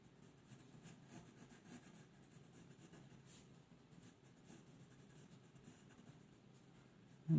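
A pencil sketching hair on paper in a figure-drawing lesson: a continuous soft, scratchy rubbing of graphite strokes, close and faint, with no talking.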